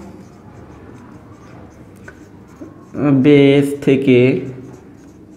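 A marker or chalk scratches faintly across a board during an ICT lecture on binary, octal and hexadecimal conversion. The soft, scattered writing noise is followed by a brief spoken phrase from the lecturer.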